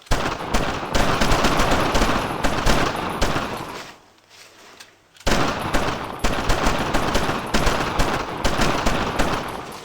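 Rapid automatic gunfire in the World War II shooter Brothers in Arms, loud dense bursts of shots with a brief lull partway through before firing resumes.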